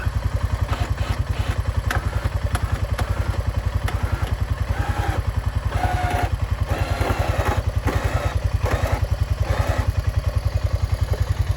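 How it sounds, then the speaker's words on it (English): A four-wheeler ATV engine running steadily while dragging something, a loud close rapid putter with clattering and rattling layered over it, continuous throughout with slight swells in effort; no speech. "dragging the four-wheeler."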